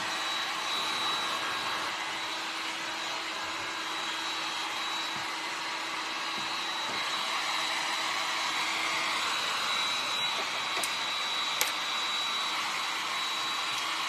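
Steady broadband whoosh of a hair dryer blowing continuously on a freshly painted planter, loud and close with no talk, holding an even roar for the whole stretch.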